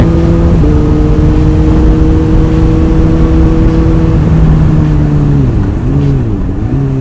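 Loud, close big-bike motorcycle engine holding steady harmonic drone, then pitch dips and wavers as the rider kicks up a gear without pulling the clutch, revs dropping and recovering near the end.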